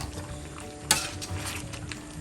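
Tomatoes stirred into chicken karahi frying in a pan: a steady low sizzle with scraping and stirring clatter, one sharper clank near the start, no talking.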